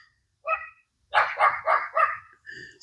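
A dog barks close by in an outdoor garden: one short bark, a pause, then a quick run of four loud barks and a softer closing yip, with no other sound.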